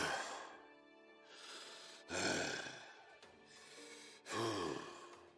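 A video game character breathes in a menacing way: slow, heavy breaths, each drawn in and let out with a rasp, three long swells spaced a couple of seconds apart, close and prominent with no other sound.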